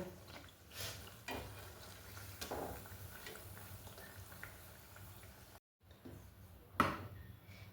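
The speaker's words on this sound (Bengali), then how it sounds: "একদম মিডিয়াম টু লো ফ্লেমে রেখে বা লো ফ্লেমে রেখে আমরা মালপোগুলোকে কিন্তু ফ্রাই করব" Malpua batter fries in oil over a low flame, giving a soft, steady bubbling sizzle with a few brighter crackles and one short break near the end.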